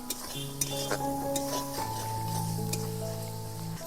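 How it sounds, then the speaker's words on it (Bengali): Ginger garlic paste frying with spices in a hot kadai, a soft steady sizzle with scraping stirs and light clinks of a utensil against the pan, over a faint musical background. "আদা রসুন বাটাটা এবার ভালোভাবে ভেজে নেব মশলার সাথে"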